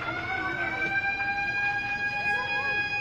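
A fire truck siren sounds while arriving at a house fire in Barangay 175, Caloocan City, a sustained wailing tone held steady and fairly loud, with people talking over it.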